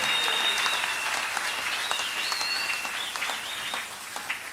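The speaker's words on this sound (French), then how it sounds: "Nous acclamons fortement Jésus." A church congregation claps loudly and acclaims, with a dense wash of applause carrying high, sliding whistle-like tones and scattered sharper claps that ease slightly toward the end.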